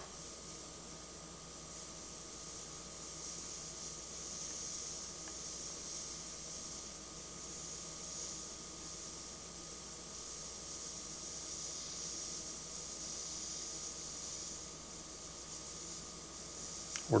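Steady airbrush hiss from black-and-grey paint being laid in lines on a leather saddlebag skull design, a continuous close airy spray running unbroken throughout.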